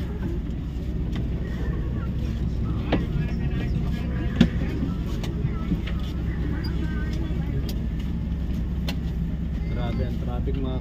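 Heavy road traffic in Suwal in the Philippines, with a continuous rumble of passing vehicles and engines heard from inside a vehicle, scattered clicks and knocks, and faint background voices.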